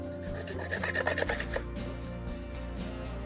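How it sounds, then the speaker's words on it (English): A tool rasps briskly over a Samsung phone's screen edge, scraping off old adhesive gunk in a quick burst of close, gritty strokes before it trails off, with a low steady hum underneath and no talk. "go around and clean up the edge where the new adhesive is gonna go"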